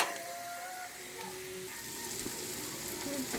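Food sizzles and caramelizes in a hot pan, a steady close frying hiss with faint crackles throughout and no talking over it.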